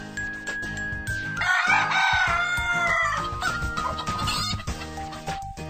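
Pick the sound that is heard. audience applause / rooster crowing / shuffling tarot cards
rooster crowing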